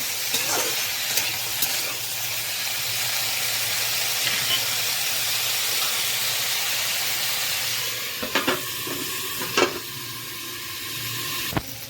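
Crab and potato pieces frying in a pan give a steady, moderately close sizzle and hiss, with a few brief clatters of stirring near the end.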